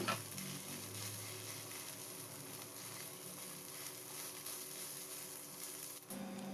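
Boiled, mashed potato stirred into a millet mixture in a pan, giving a soft, continuous low sizzle and scraping throughout, fairly faint and steady with no talk.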